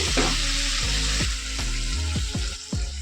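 Red amaranth stems with shrimp and mustard are stirred in a sizzling pan, with a steady frying hiss and repeated scraping strokes of the spatula, close and loud.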